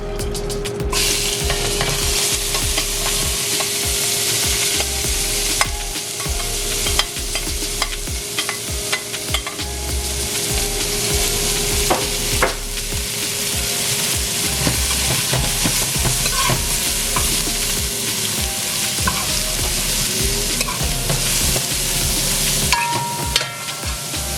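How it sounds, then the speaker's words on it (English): Onions, garlic, bandania and habanero pepper frying for mango amchar, a loud continuous sizzle with frequent spoon clinks and scrapes against the pot, close up and without talk. "I'm going to put the bandania, the onions, the garlic, and the habanero pepper in now"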